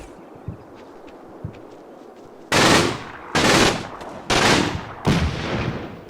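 Four sharp bursts of machine gun fire in the Combat Mission wartime battle game, each a loud, short rattling volley separated by brief gaps, after a quiet stretch with faint distant pops.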